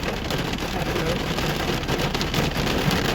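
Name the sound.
heavy rain pouring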